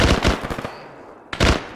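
Rapid automatic gunfire in a military video game, loud and close, heard as a quick run of sharp shots, a brief lull, then another burst.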